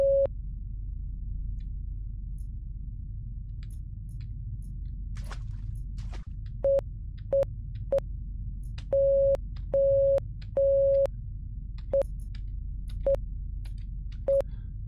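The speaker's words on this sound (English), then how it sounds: "E to use Morse to do Morse code" Morse code beeping in the submarine horror game First Winter, a series of clean electronic tones mixing short dots and longer dashes in uneven bursts over a low rumbling background.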